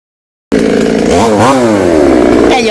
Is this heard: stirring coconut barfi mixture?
no